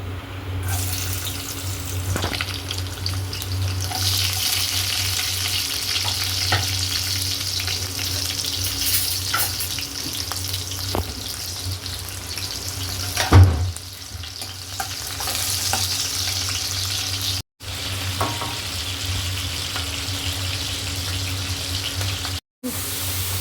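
Garlic and chilies sizzle and crackle steadily in hot oil, a continuous close frying hiss with occasional faint clinks.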